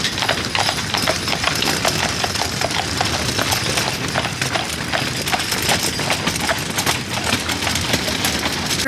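Horse hooves clip-clop at a steady walking rhythm on a street on car-free Mackinac Island, close and prominent, with a low engine-like rumble and general outdoor noise underneath and no talking.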